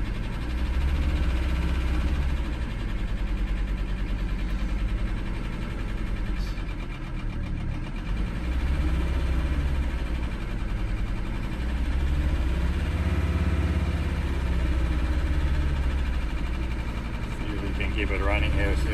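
A 1980s-style Mercedes 300SD diesel engine revived after sitting, held running on the throttle: a loud, continuous rough engine drone with uneven surges close by.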